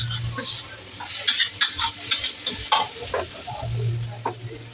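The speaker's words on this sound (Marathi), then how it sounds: "सगळे पदार्थ टाकून झाल्यावर हलवायचं आहे." A spatula scrapes and stirs pulav ingredients in a hot tava, giving irregular metallic scrapes and knocks over a soft frying sizzle, with a low steady hum underneath.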